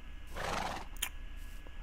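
A Minecraft horse whinnies loudly in a single rising, shaky neigh, followed by a short bright chime and a faint clop.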